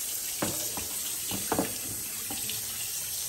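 Tap water runs steadily as a Miele coffee maker's drip tray is rinsed, a soft, continuous hiss and splash with a few brief sharper splashes as the tray shifts under the stream.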